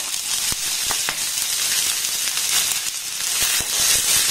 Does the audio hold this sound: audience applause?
no